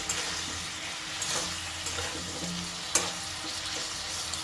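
Chopped sweet potato tipped into a hot pan of sautéed vegetables and stirred, a low steady sizzle of frying with scraping and clinking of the spoon against the pan, one sharper knock near the end.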